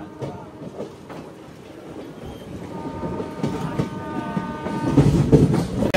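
An Araku–Bangalore train rolls along the rails with a steady rumble and recurring clickety-clack of wheels, growing louder toward the end, with no voices.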